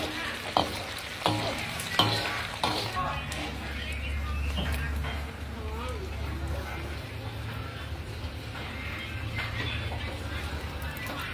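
Fried fluffy catfish is stirred and tossed in a sizzling pan. Steady frying hiss runs throughout, with a few sharp scraping knocks early on and a voice talking over the cooking.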